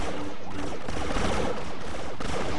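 Blaster-style gunfire aimed at the player in Star Wars Battlefront 2, a dense, steady barrage of shots and crackling impacts filling the clip at close range, with no voices.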